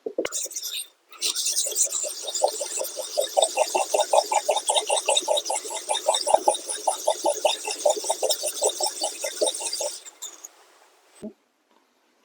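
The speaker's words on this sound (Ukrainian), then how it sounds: "круговими рухами" Steady rhythmic scraping of a metal pruning shear blade plate rubbed in circles on an oiled whetstone, close and continuous for about nine seconds before stopping.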